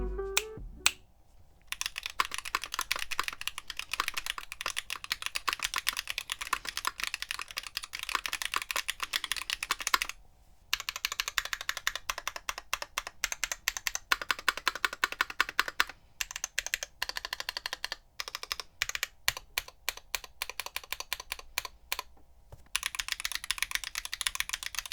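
Stock Azure Dragon v2 tactile switches on a mechanical keyboard, typed on in quick, close clacky bursts with short pauses between runs of keystrokes.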